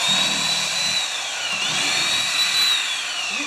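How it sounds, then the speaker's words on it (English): Power tool chamfering the end of a piece, a steady high-pitched whine running continuously and close up with no voices. "I'm going to just chamfer the end a little bit again."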